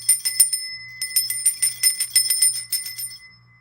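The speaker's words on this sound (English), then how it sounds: "why is my bell acting like this?" A small desk bell rings in a quick run of bright metallic dings, with two bursts of rapid strikes separated by a brief pause, fairly close and clear, with no talking.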